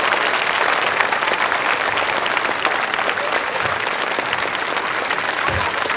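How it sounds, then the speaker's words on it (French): Loud, sustained applause from an audience in a tent on an Antarctic expedition as a Chinese glaciologist emerges, dense clapping filling the whole stretch without pause. "Je vous demande d'applaudir très fort."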